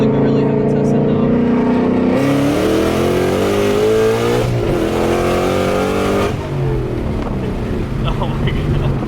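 A car's engine pulls loudly and close from inside the cabin, the pitch climbing, dropping sharply at a gear change, then climbing again, while people talk over it.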